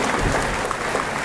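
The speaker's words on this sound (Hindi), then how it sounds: "एक बार जोरदार ताली।" A crowd at a political gathering breaks into loud applause, a dense continuous wash of clapping filling the whole short moment.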